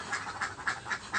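Laying ducks quack in a steady run of five evenly spaced calls, moderately close and clear against a low background hum, with no talk.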